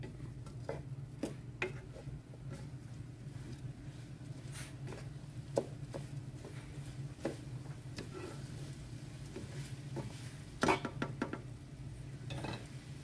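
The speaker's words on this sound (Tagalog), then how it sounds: "Haluin din ulit." A spoon stirs chicken rice curry in a pot, with soft scraping and scattered light clinks and knocks against the metal over a low steady hum, fairly quiet and with no talk.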